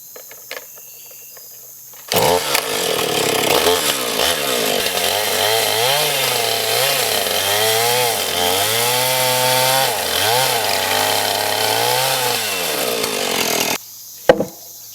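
A chainsaw mill starts up and saws lengthwise through cedar to cut a beam, the engine roaring steadily near and loud with rhythmic pitch dips as the chain bites, then cutting off abruptly.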